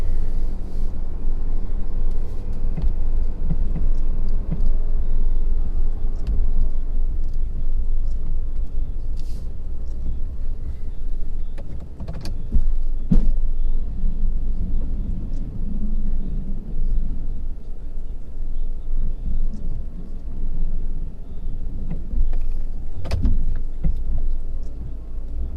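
A 2017 Ford F-250 pickup back-drags snow on a driveway with a steady low engine rumble. Scattered scrapes and knocks sound close by, and sharp clunks come around the twelve-second and twenty-three-second marks.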